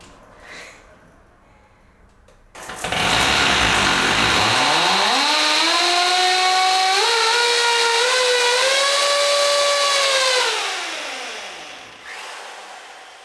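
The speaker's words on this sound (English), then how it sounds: "Never ever in my life have I drilled holes with such love and care." A power drill bores holes for a DIY board and batten wall, its motor whining up in pitch, holding a loud steady tone for about eight seconds, then winding down, with quiet room sound before and after.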